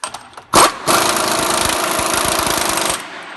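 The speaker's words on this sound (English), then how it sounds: "We'll start this one with the impact, finish it off with the torque wrench." Impact wrench spinning off a 36 mm nut, a short burst followed by a loud sustained rattling hammer for about two seconds before it stops abruptly.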